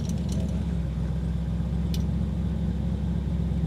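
A 1969 Chevelle 300 Deluxe SS396 V8 idles steadily up close, a continuous low rumble with a faint metallic jingle near the start and again briefly around two seconds.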